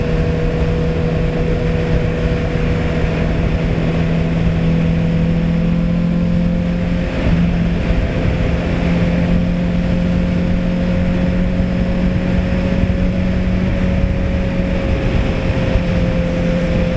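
Kawasaki Z750 motorcycle engine heard while riding, a steady loud drone with a sustained low hum and a constant higher tone, holding an even pitch throughout with no voices.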